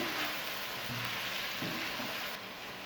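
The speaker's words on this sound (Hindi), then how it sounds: "सबको अच्छी तरह से मिक्स कर लेंगे। और तकरीबन 1 मिनट के लिए फ्राई करेंगे।" A spiced gobi chicken mixture with turmeric frying in a pan, a steady soft sizzle with faint stirring scrapes under it.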